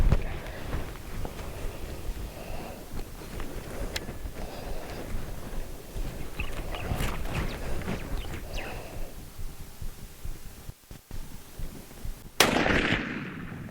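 A hunting rifle fires on a South African safari: a single sharp, loud report late in the clip, following wind buffeting and scattered outdoor rustling.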